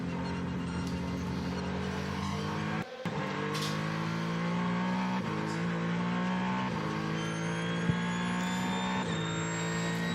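Onboard engine of an endurance race car on a wet track, a loud continuous drone whose pitch climbs and falls through repeated gear shifts, with one brief dropout.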